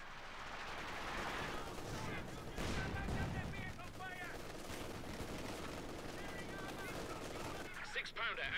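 Bren light machine gun and StG 44 assault rifle fire crackle in a World War II strategy video game battle, dense overlapping bursts running steadily throughout, with voices talking over the gunfire.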